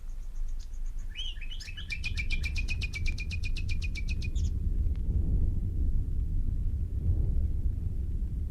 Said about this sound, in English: suddenly, just before dawn, we heard the nightingales